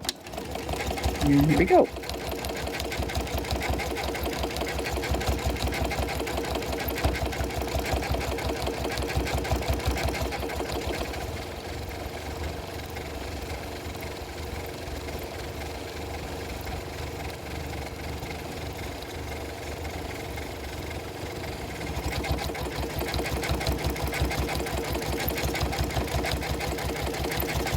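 A sewing machine quilts across the seams of a quilt, with a steady, close mechanical hum running almost the whole time beneath someone talking.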